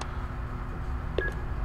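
In the Until Dawn video game, a phone gives a short electronic tone with a new message, a single clear beep near the end over a quiet, hummy background.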